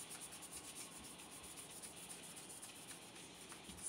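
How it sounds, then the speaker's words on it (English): Sanding in a home workshop makes a faint, continuous rubbing scrape with soft, uneven strokes, heard alone at low level. "Sanding."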